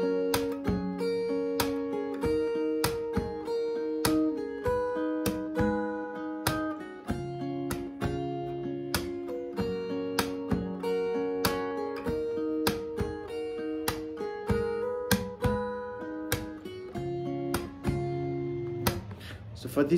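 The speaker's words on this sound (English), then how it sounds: "So we'll be just adding the kick drum to this melody." A fingerstyle acoustic guitar plays the melody of a Hindi song, with steady percussive kick-drum thumps on the body woven between the plucked notes. The part is clear and close, with no talking.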